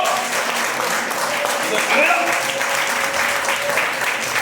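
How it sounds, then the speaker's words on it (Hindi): Loud, continuous clapping from a church congregation during an energetic worship service, dense and steady throughout with voices mixed in underneath. "ताली बजाइए जोरदार"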